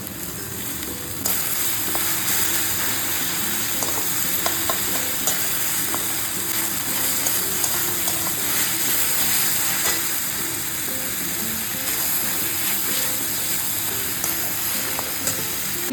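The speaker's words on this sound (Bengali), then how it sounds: "টমেটোটা দিয়ে দিচ্ছি" Tomato goes into a pan of mutton liver curry, giving a continuous dense sizzle with faint stirring scrapes and small clicks underneath, close and steady for the whole stretch with no talking.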